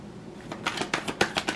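Tarot cards riffle and slap together in a short, quick shuffle for an April 2022 Pisces reading, a close run of crisp flutters and taps with no talking.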